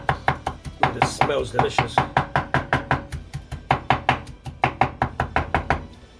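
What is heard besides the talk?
chopping fresh cilantro with a knife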